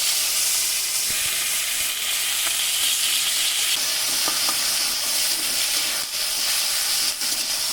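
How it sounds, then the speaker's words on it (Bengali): Bay leaf, panch phoron, whole cardamom, cinnamon, cloves and chopped onion fry in hot oil for a fish curry, a loud continuous close sizzle and hiss with occasional stirring clinks, no talking. "ফোড়নটা একটু লাল লাল করে ভেজে নেব। ভেজে নেব কেটে রাখা পেঁয়াজ।"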